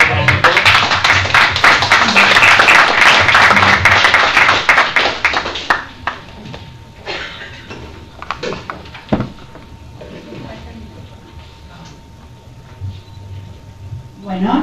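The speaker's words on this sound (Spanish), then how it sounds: "un aplauso para todos" Audience applause after a lecture on the economic history of the northeast, loud dense clapping for about six seconds that then breaks into scattered claps, shuffling and murmured talk in the room.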